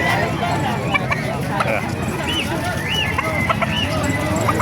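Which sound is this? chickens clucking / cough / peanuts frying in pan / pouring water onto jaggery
chickens clucking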